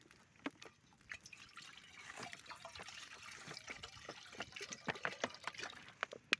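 Spring water is poured outdoors in a cold, wet forest, making a faint trickling and dribbling with small splashy drips that grow a little busier toward the end.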